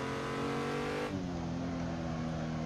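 A race car engine in a BMW virtual racing game revs hard, its steady high whine dropping in pitch midway as the car shifts or lifts, loud and close throughout.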